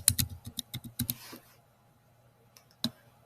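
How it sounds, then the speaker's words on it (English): A password is typed on a computer keyboard in a quick burst of close, crisp key clicks, followed by near silence and one last keystroke. "And then you put in a password that you can remember."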